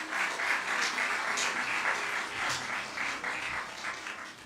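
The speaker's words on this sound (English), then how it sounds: "Give her a round of applause." Audience clapping for a competitor at the Lions Club South St Vincent public speaking competition, a fairly quiet, continuous round of applause from a hall, with no voices on top.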